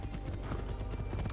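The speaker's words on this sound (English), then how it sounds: "You just ride your horse right next to women." Horse hooves clip-clop in Assassin's Creed 3 as a ridden horse moves along, a quick, steady run of close hoof beats over a low game background.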